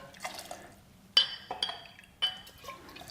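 Vodka poured into a small shot glass for an espresso martini, a few quiet liquid trickles with sharp glass clinks, fairly close and heard alone.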